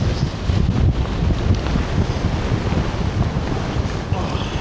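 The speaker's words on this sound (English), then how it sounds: "that is strong wind, isn't it?" Strong wind roars and buffets against the microphone on a cloud-covered Scottish mountain summit above Loch Mullardoch. The gusting is loud and continuous, with a faint voice mixed into the rush.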